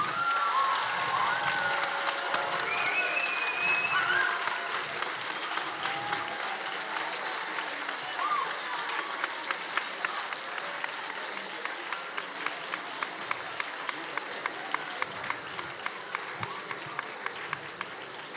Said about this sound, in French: Je crois que nous pouvons applaudir Olivier Norek qui arrive.